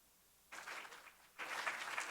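Applause from the audience at a school board meeting, rising in two bursts: a first round that tapers off, then a louder, fuller second round, heard alone without talk.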